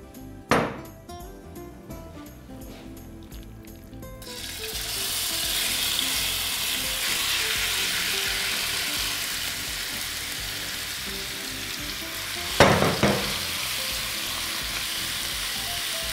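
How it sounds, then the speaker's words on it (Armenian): Ground meat sizzles in vegetable oil in a pan, beginning with a sharp clatter, then swelling into a steady close frying hiss, broken by another clattering knock near the end. "Աղացած մթերքները հարկավոր է տապակել։"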